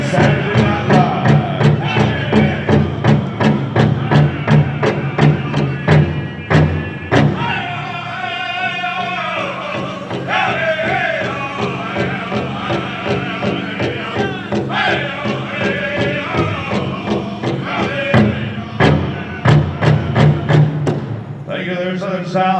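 Pow wow contest drum at an ASU outdoor gathering, heavy steady beats pounding under loud group singing with high wavering vocal lines, strong and close throughout, with a brief shift in rhythm partway.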